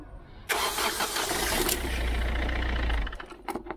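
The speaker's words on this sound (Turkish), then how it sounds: "Motoru çalıştıracağız." A car engine cranks and catches with a loud start, runs steadily for a few seconds, then is switched off, leaving brief ticking as it stops; done to bleed air from a power steering pump after a hydraulic fluid change.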